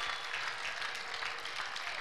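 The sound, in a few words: congregation applause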